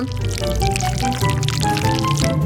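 Honey is poured from an opened container into the middle of stacked cake layers, giving a short continuous close-up pouring sound that is fairly loud, with no speech.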